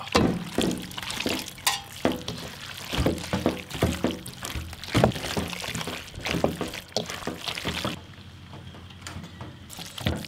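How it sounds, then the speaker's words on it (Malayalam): Water pours and splashes into a bowl of chicken pasta mixture, with small drips and clinks throughout, then stops near the end, leaving quiet room noise. "ഒരൽപ്പം വെള്ളം കൂടെ ഒഴിച്ച്"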